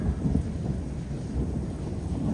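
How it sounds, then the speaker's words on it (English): Thunder rolls in a continuous low rumble during a storm in South Australia, distant and steady, with a soft rain-like hiss and no talking. "There's the thunder."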